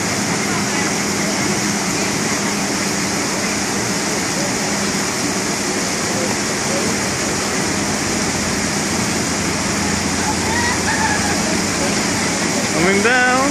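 Steady rushing, splashing water on the Wild River water ride in Skegness, Lincolnshire, a dense broadband roar filling the whole stretch at constant loudness, with a brief faint whistle-like tone near the end.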